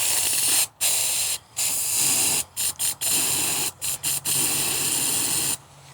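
A DIY spray foam gun being cleaned out gives a loud, steady hiss of spraying, interrupted by several brief pauses, close and alone with no talk.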